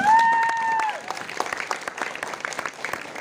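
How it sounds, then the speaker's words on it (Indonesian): Clapping from the audience for Farid at a Sufi talk gathering in an Indonesian pesantren, scattered handclaps following a brief tonal sound at the start, moderately close. "tepuk tangan untuk Farid."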